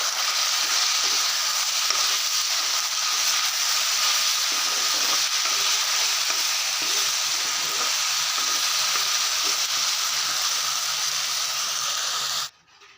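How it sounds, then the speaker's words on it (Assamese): Leafy greens sizzle steadily in a pan for an iftar meal, a continuous close hiss with faint rhythmic stirring knocks, cutting off abruptly near the end, no talking. "শাক ভাজিছোঁ"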